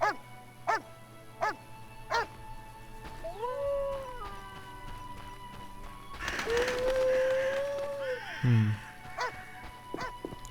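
A dog in the video game The Witcher Enhanced Edition gives several sharp, close barks, then breaks into long, wavering howls and a final whimpering yelp.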